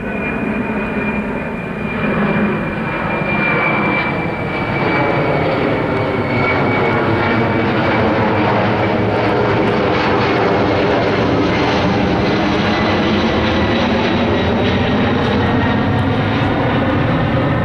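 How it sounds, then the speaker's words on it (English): Firefighting airplane engines drone loudly and steadily overhead for the whole stretch, a broad roar with a faint high whine, during a wildfire at Horsethief Canyon, California. "Oh, they deployed the planes"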